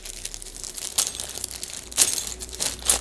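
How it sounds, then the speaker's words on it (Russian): A small plastic bag holding parts for a budget front rack for a fatbike crinkles close by. Quiet, irregular rustles rise to several sharper crackles, with no talk. "Вот такой пакетик идет в комплекте с багажником."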